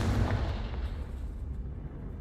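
A Confringo blast spell going off in the Hogwarts Legacy video game: a booming burst at the start that rolls into a dense, rumbling crackle and fades over about two seconds, with no voice.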